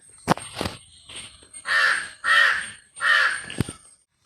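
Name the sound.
crows cawing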